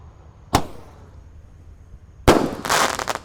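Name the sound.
8-shot 1-inch Roman candle firework shots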